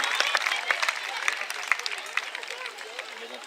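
Audience applause at a race final in Aizenay, with dense, sustained clapping from a crowd close by and scattered sharper claps throughout.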